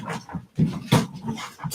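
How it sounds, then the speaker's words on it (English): A dog plays with its food just after being fed, giving short bursts of panting, snuffling and small whimpering growls close by, with brief pauses between bursts. "That's our dog playing."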